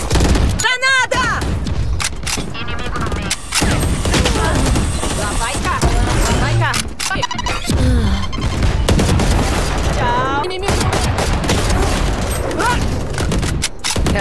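A grenade blast and rapid gunfire in Valorant, dense loud shooting and booms packed throughout, with voices talking and shouting over the fight.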